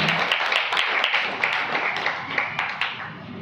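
Church congregation clapping during a Friday sermon, a steady spread of many hands with sharper individual claps standing out every half second or so, fairly close and continuous for a few seconds.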